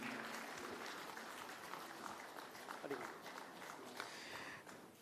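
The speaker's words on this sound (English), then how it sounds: "Ladies and gentlemen, a big round of applause, please." An audience at a global manufacturing conference applauds in a steady, dense clatter of hands that holds for several seconds before tapering, with voices mixed in underneath.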